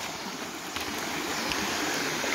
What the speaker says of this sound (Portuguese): Olha o tanto de água que está correndo.